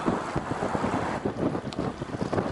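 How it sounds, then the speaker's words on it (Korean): Strong headwind roars over the microphone during a long-distance brevet bicycle ride, a steady, buffeting rush of wind gusts with no voices. "바람 역풍에 제대로 설리는데"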